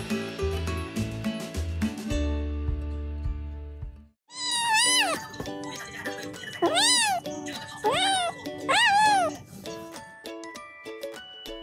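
A small cat gives several meows that rise and fall in pitch, heard up close over a busy background of music and chiming tones.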